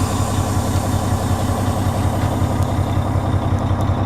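A truck engine idles steadily after being shifted into drive, a low, even rumbling drone close by with no voices and no change in pitch.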